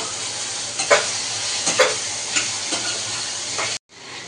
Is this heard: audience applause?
no